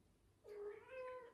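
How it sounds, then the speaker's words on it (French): A house cat meows twice in a drawn-out, slightly rising way, faint and somewhat distant in a quiet room. "là c'est mon chat qui me miaule"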